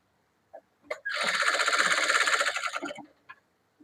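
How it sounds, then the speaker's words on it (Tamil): A sewing machine stitches the lining of a blouse, running in one steady, close burst of about two seconds with a few soft clicks and fabric handling before and after it. "சுற்றிலும் லைனிங் மேலே மட்டும் தையல் போட்டுக்கலாம்"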